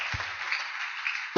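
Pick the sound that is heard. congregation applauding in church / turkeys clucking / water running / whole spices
congregation applauding in church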